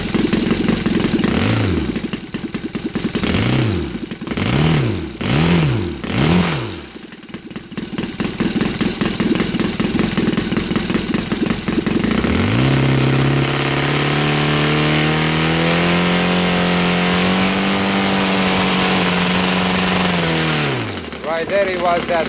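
A Saito FA270T model aircraft engine converted to run on gas, with CH ignition, rises and falls through several quick revs, then settles into a steady, loud idle. A voice is heard faintly during the running.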